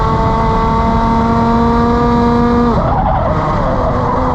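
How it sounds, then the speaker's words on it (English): Racing kart tires locking up under hard braking, a loud sustained screech over the buzzing engine that drops and breaks off abruptly near the end. "brake way too aggressively and lock up the tires way too much"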